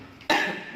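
A single short, sharp cough, close and fairly loud, bursting out after a brief quiet moment.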